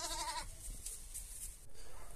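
Young lambs only a few weeks old bleat in a pen: one clear, wavering bleat up close in the first half-second, then low barn noise with no voices.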